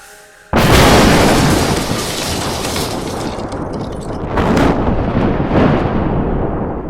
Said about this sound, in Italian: con questa tempesta è un cattivo presagio